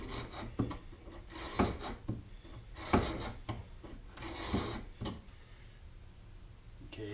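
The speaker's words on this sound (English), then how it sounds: "I've got a scraper right here that might work just as well." A hand scraper shaves a wood block in a series of close, raspy scraping strokes, roughly one every half second to second, moderately quiet, with no talk over it.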